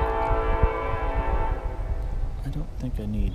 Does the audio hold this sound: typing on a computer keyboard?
no